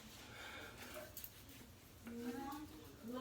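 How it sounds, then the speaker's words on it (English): Family voices chatter in the background at a morning house party, a muffled murmur of overlapping talk with a dog briefly whimpering amid the hubbub. "You can hear my family in the background."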